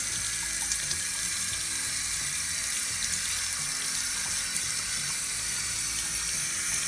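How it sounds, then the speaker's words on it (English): Tap water runs steadily into a sink as hands are washed before baking muffins, a close, continuous hiss and splash with no talking. "let's all line up and let's wash our hands"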